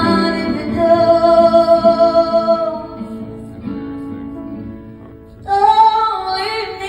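A new song played live: sustained sung vocal lines over band accompaniment, loud and continuous, with a brief dip in intensity before the singing swells back in.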